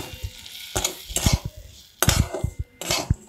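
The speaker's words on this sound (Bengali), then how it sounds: "এক মিনিট মতো আমি এটা মাঝারি আঁচে একটু নেড়ে নেব" Chopped cashews and semolina stirred in a pan over medium heat, with bursts of scraping and clattering from a spoon against metal in irregular strokes over a light sizzle, close and clear with no voices.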